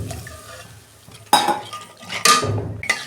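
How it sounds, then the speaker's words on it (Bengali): Water is poured into hot masala in a pan for a Bogo fish curry, giving two loud splashing, hissing bursts with a clatter of the pan between quieter stretches. "আমি পরিমাণ মতো জল দেবো।"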